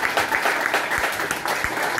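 An audience in a dark hall at a rock jam session gives a short burst of steady applause for a guitarist, dense and continuous clapping with a few heavier thumps.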